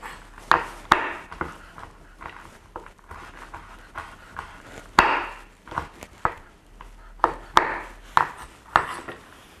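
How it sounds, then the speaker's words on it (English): A knife roughly chops cashews on a board, irregular sharp knocks coming in uneven bursts with brief scraping between strikes, close up and clear with no voices. "just as long as you've got a bit of a rough chop going on"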